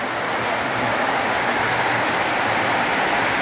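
Steady rain falls on a rainy day in St. Mary, a dense, even hiss of drops holding constant throughout without any voices.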